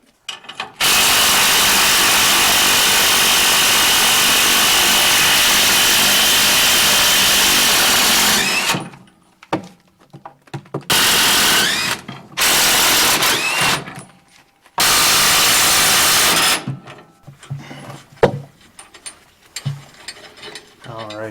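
Impact wrench rattling loose U-bolts during a lowering block installation, one long loud continuous burst followed by several shorter bursts separated by quiet gaps and light clanks.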